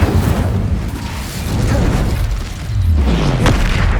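A fire spell cast in the Hogwarts Legacy video game gives a deep booming burst with a rumbling whoosh, loud and close, followed by a second swelling blast near the end.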